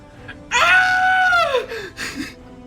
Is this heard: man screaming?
yes